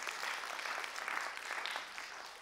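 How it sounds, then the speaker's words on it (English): An audience claps together in a conference breakout room on health, a short burst of dense, steady applause that holds its level for a couple of seconds. "Give yourselves a round of applause."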